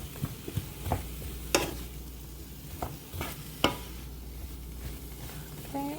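Onions and vegetables sizzle steadily in a pan while a utensil stirs and breaks them up, with several sharp scrapes and taps over the constant frying hiss, close and fairly quiet, no talking.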